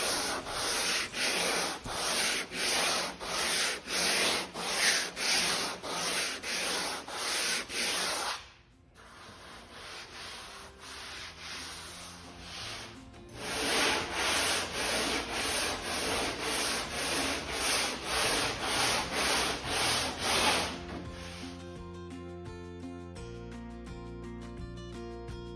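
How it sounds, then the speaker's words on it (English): Rhythmic back-and-forth strokes of a longboard sanding a wooden boat deck by hand, loud and close, with a brief quieter pause midway, then a final stretch that trails off into faint tonal noise. "I then finished off with hand sanding with a longboard."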